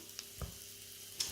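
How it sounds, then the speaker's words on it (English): Chicken frying in a pan of hot vegetable oil gives a faint, brief sizzle, with a few soft pops and crackles over a quiet background. "You can hear that nice sizzling sound."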